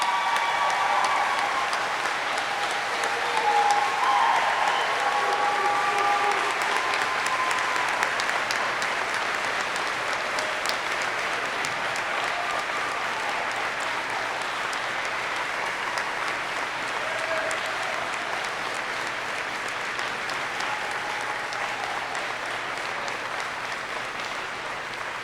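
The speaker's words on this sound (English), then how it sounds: "Please join me in a round of applause for the Army's newest aviation warfighters." Sustained audience applause at a U.S. Army flight school graduation honoring new aviation warfighters, a dense, steady roar of many hands clapping that fills the hall and slowly eases off over about 25 seconds, with no talking.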